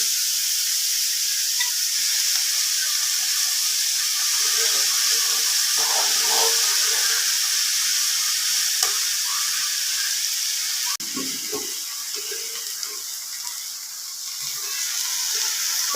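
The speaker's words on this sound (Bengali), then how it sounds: "পাতাগুলো ভালোভাবে ভেজে নিব" Cockscomb leaves fry in hot oil with a steady, loud, broadband sizzle and hiss that runs throughout, with occasional soft pops and faint spatula scrapes.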